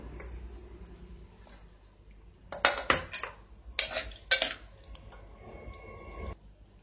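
Pressure cooker of cooked mutton being opened: a few sharp metallic clanks and clatters of the lid and pot in a quick cluster, close and fairly loud over a quiet kitchen background, followed by a brief soft hiss.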